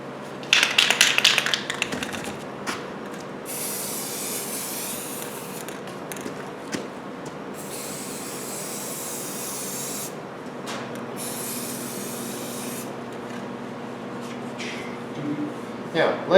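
Aerosol spray paint hisses in long steady bursts over a used engine being detailed, applied in smooth light coats, with short pauses between passes and a faint background hum throughout.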